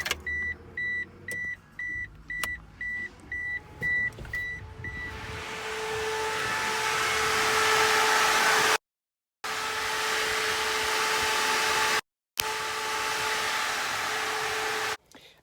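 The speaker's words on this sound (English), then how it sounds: "So with the ignition switch on, I should be able to turn on the switch for the fan," An aftermarket slim pusher fan on a DSM car starts up after a run of short electronic beeps, then hums steadily with a whirring, blower-like tone that holds to the end, broken by two brief dropouts.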